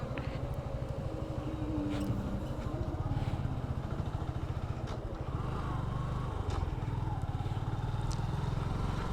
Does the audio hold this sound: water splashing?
no